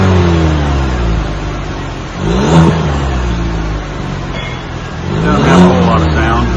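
Stock exhaust on a 2026 Chevrolet Silverado before a Magnaflow muffler swap, heard close as the engine idles and revs twice in quick rising-and-falling bursts.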